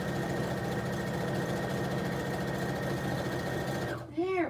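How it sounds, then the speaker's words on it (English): A home sewing machine runs fast, stitching a beginner reversible tote bag in a steady, dense mechanical whir that holds for about four seconds, then cuts off, leaving a brief clatter. "if your sewing machine has a speed on it, you can slow it down"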